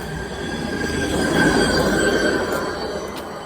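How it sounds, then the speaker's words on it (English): A train rolls along a railroad track at steady volume, a broad rumble with a thin high wheel squeal running through it, peaking slightly midway and holding without voices. "you mean to tell me they putting trucks up on the train track?"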